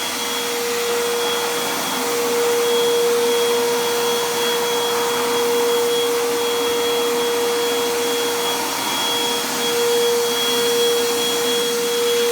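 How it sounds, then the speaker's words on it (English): A vacuum cleaner runs steadily at close range, drawing dust out of cracks in a concrete surface, its constant whine holding an even tone with no voices over it. "You can suck up any dust that's stuck inside that crack easily."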